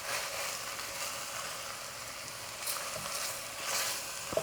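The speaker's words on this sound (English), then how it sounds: "We are going to saute another 2 more minutes with our spices." Spices sautéing in a pan for a lentil and lamb braise, a soft continuous hiss of frying with faint movement and a small clink near the end, no voices.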